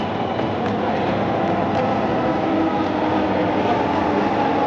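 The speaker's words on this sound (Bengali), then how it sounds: "এখন ট্রেন চলে আসছে" A Dhaka metro rail train arriving at a station, a loud continuous rumble and rushing roar holding steady from start to finish with no voices.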